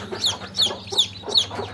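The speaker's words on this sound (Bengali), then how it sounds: "এটা কিন্তু আমার আসিল মুরগি, ফাইটার মুরগির ডিম" An Aseel fighter hen clucking close by in a rhythmic series of four short, sharp calls over a faint low background hum.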